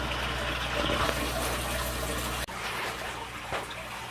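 An aquarium pump keeps water moving during a water change, giving a steady, close gushing and trickling wash with a brief dip partway through, alone with no talk.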